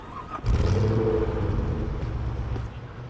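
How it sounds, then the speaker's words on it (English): A tow truck pulls up in Police Simulator: Patrol Officers, its engine rumbling and revving close by, starting abruptly after a brief quiet moment and holding steady throughout. "There's our tow truck."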